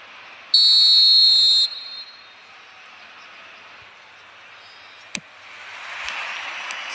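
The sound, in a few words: referee whistle in eFootball video game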